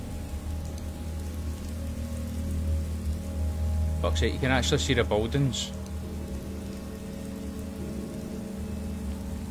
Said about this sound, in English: It's a raindrop mod we've got running.